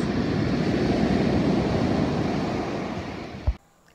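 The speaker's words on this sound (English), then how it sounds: "to the sounds of the crashing waves" Ocean waves rush steadily onto a beach with wind buffeting the microphone, then the roar cuts off abruptly after a soft thump.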